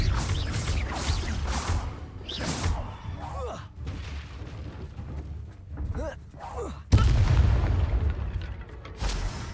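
Spell blasts cast in Hogwarts Legacy, booming magical explosions and thuds bursting out loudly at intervals, the last one a heavy lingering blast, with a voice speaking over the combat.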